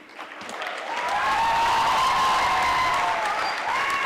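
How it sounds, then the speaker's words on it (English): An audience at a school golden jubilee event breaks into applause, quickly building from scattered claps to loud, steady clapping with a hint of crowd cheering in a large hall. "Louder round of applause."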